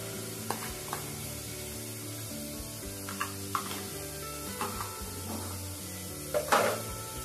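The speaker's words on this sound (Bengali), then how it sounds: "এখানে এবার পেঁয়াজ রসুন আদা একটু ভালো করে ভেজে নিই, এর কাঁচা গন্ধটা চলে যাওয়া পর্যন্ত।" Onion, garlic, ginger and chili paste fry in a pan for a steamed chicken curry, giving a soft sizzle broken by several sharp utensil taps and scrapes, with one louder clatter near the end.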